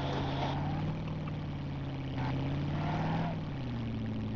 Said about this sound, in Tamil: சரி ஏங்க இந்த வண்டி தான் கிடைச்சிட்டா ஸ்லோ மோஷன்ல போறதுக்கு?